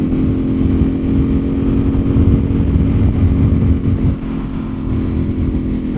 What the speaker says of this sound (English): That is indeed an amazing motorcycle.